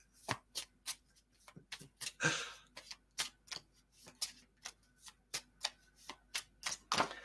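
Playing cards are shuffled in a series of crisp riffling bursts and taps, close and fairly quiet, with no talking.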